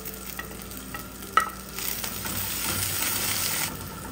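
Shallots, green chillies and curry leaves drop into frying ginger garlic for a fish curry. A sharp metallic clink comes first, then a surge of loud crackling sizzle. Nobody speaks.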